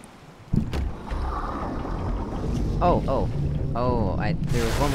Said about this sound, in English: So we'll take the boat over to the ship.